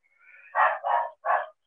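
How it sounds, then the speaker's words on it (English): A dog lets out three quick barks in a row, close and clear against an otherwise silent background. "we can hear your dog."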